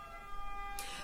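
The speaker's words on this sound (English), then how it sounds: "sorry about the ambulances" Ambulance siren wailing in the distance, a steady tonal whine held through a brief moment, fairly faint, with a short hiss of noise near the end.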